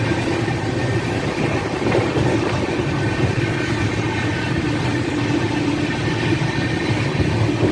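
A passenger train running from Howrah to Bangalore picks up speed, heard from inside the carriage as a loud, continuous rumble and rattle of wheels on rails with steady clatter and no talk.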